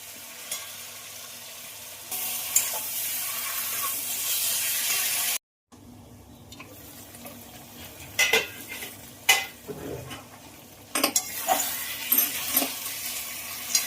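Fried potato and cauliflower are stirred into a pan of fried spice paste with tomato and salt. A steady sizzle runs under sharp clanks and scrapes of a metal spoon against the pan, with a brief pause midway.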